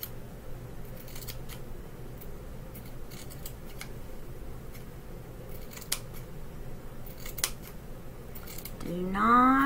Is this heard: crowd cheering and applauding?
no